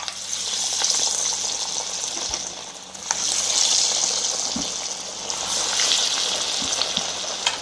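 Chana dal vada fry in hot oil on medium heat, a steady bright sizzle with gentle swells in intensity and a few soft clicks of utensils, close and continuous with no talking.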